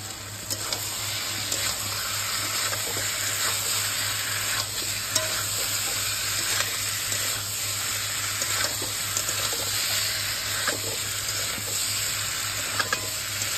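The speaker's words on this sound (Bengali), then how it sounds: "এইবার আমাদের মুচ্ছাগুলো আমরা এর ভিতরে অ্যাড করে দেবো, তারপরে একটু হালকা কষিয়ে" Chital fish muitha dumplings are sautéed with fried potatoes in a pan, giving a steady, soft sizzle and frying hiss with occasional stirring scrapes and a constant low hum in the background.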